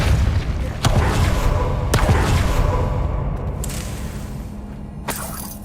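A Depulso force spell cast in Hogwarts Legacy, in a dense game mix of heavy booms, thuds and impacts, with several sharp blasts standing out over a rumbling background.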